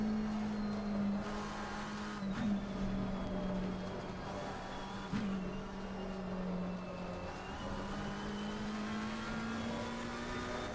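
Race cars in a sim racing game at Silverstone or Suzuka, a steady engine drone at high revs with brief dips and surges as gears shift, a rival Porsche closing from behind, moderately loud and without talk.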